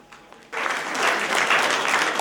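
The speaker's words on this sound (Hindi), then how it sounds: "दीक्षांत सभागार तालियों से गूंजता रहे।" Audience applause in a university convocation hall at a doctoral degree ceremony, bursting in loudly after a quiet moment and holding as a dense, sustained roar of clapping.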